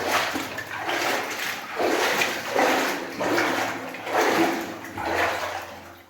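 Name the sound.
water splashing while moving through water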